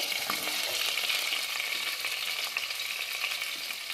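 Green chillies and onions fry in oil inside a pressure cooker for vegetable pulao, giving a steady, close, dense sizzle with faint crackles throughout and no voices.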